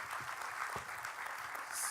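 An audience at a conference plenary gives a short burst of applause for a panel, a brief, moderately faint patter of clapping from a seated crowd.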